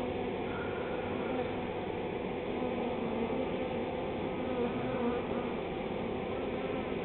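A honeybee swarm fills the air with a steady, dense buzz that holds at an even level throughout, close and continuous with no voices.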